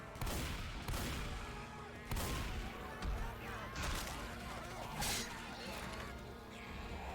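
Rapid gunfire in the Left 4 Dead 2 video game punches through walls, repeated sharp bursts crashing over a dense, noisy wash of game sound effects.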